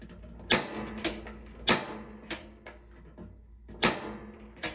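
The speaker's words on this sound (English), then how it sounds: "then we're gonna hit our igniter" A gas heater's igniter is pressed repeatedly to light the pilot, giving sharp, close clicks in uneven succession, some with faint mechanical rattles, over a quiet background.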